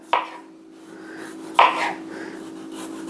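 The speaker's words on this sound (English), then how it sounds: "Now, the thinner you slice your potatoes, the quicker they'll cook." Knife slicing potatoes thinly on a cutting board, two distinct crisp chopping cuts about a second and a half apart, close and fairly loud against quiet room hum.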